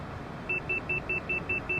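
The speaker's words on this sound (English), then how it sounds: "The speed alarm again." Overspeed warning in a Cessna CJ4 cockpit in Microsoft Flight Simulator: seven short, evenly spaced electronic beeps at a quick steady rhythm, clear over a low, constant cabin hum.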